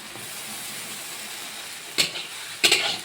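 Hot water poured onto meat cooking with ginger-garlic paste, giving two short bursts of hissing steam over a steady low background hiss, the second burst louder and longer.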